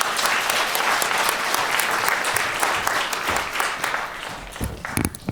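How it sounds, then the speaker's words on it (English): Conference audience applauding as the board chair comes up to speak, loud sustained clapping from a big crowd that thins out near the end with a few handling bumps and knocks. "Let's give her a round of applause."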